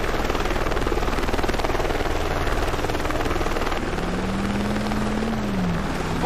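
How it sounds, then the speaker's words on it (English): A news helicopter in the Driver San Francisco video game gives a loud, steady chopping rotor drone that runs the whole time, with a rising engine tone coming in near the end. "assist officers under fire from a goddamn news chopper"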